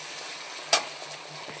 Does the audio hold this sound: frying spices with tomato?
yes